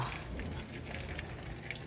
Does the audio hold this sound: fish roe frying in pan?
yes